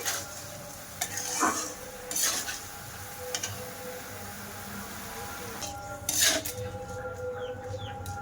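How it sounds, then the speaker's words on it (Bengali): Raw unripe mango simmering in a pan for pickle: a low, steady cooking hiss, punctuated by a few loud, close spoon scrapes and clinks against the pan. "দেখো আস্তে আস্তে সিদ্ধ হয়ে যাচ্ছে আমটা।"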